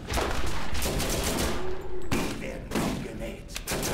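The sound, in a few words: vehicle turret firing in Borderlands video game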